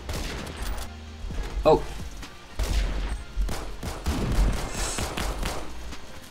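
Shots from a Remington 700 rifle in the shooter game Phantom Forces, several loud, sharp blasts at intervals amid other gunfire. A player speaks briefly between them.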